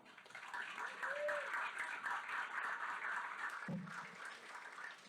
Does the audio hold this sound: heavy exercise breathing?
no